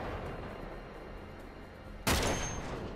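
Gunfire in Uncharted 3: Drake's Deception, inside a castle museum, with one sharp loud shot bursting out and ringing over a steady rumbling game ambience.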